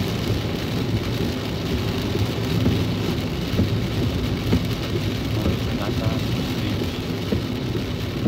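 Steady heavy rain pours down in a constant hiss on a drive from Nueva Ecija to Metro Manila, with a low rumble underneath.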